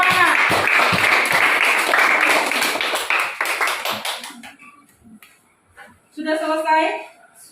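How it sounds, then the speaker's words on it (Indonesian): Classroom applause for a student, a dense burst of clapping for about four seconds that thins out and fades, followed by a teacher speaking. "Kita berikan tepuk tangan untuk Romana."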